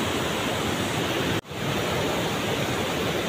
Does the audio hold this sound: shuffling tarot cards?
no